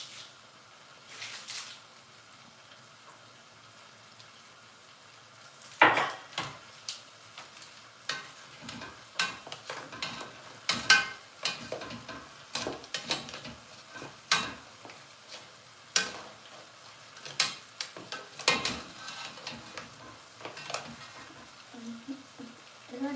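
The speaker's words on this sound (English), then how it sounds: "So we're going to saute this together" Dried shrimp sauteing in a pan for Newport lobster with garlic noodles, a faint background sizzle punctuated by irregular clicks and scrapes of stirring that grow busier midway.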